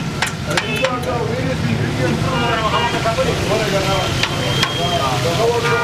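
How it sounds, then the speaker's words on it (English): Steady sizzle of chapli kebabs frying in animal fat, with metallic clinks and scraping, voices talking over a busy outdoor street-food scene in Mardan, Pakistan. "they're just frying the Chapli Kebabs in animal fat"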